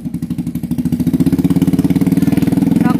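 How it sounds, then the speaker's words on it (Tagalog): A noisy motorcycle engine idles close by with a rapid, pulsing putter that grows louder and more regular over a few seconds, with no speech. "Nakakahiya yung motor mo"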